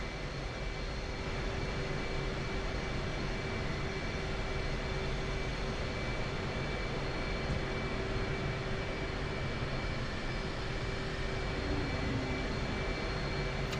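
An F/A-18C jet taxis in the DCS flight simulator, a steady loud engine roar and whine that holds unchanged throughout, with no talk.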